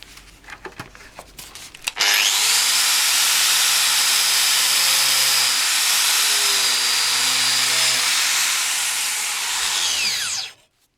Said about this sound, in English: I'll put this thing in the grinder for a minute and show you what it looks like